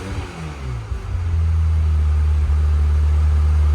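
A Ferrari F355 engine with a misfire just off idle, heard close as it settles into a steady low idle drone after a brief rev change, with a slight uneven stumble.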